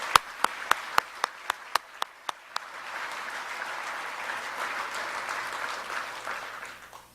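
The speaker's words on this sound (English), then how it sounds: "Let's give the whole community a round of applause" Audience applause at a GE Aviation jobs announcement for a new Lafayette facility: a few sharp, separate claps come first, then a full room of steady clapping that holds strong before tapering off.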